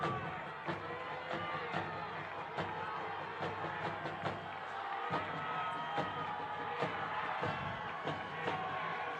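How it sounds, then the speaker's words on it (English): A good-sized crowd at a night high school football game yells and cheers steadily in the distance, with scattered whoops and thumps, under a commentator talking. "Good-sized crowd here tonight yelling for the Black Tornado to go."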